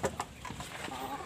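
Hens clucking nearby in short, irregular bursts over a soft background of farmyard noise.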